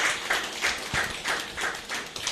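Scattered audience clapping at an artificial intelligence lecture, a few hands striking in an uneven, sparse rhythm over a steady room hiss, fairly soft and without any talk.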